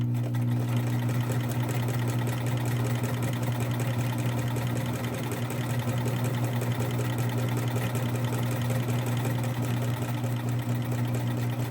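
A sewing machine stitches a fabric face mask and pivots at a corner to start down the next side, running as a steady, close, continuous mechanical hum with a constant motor drone and no voices.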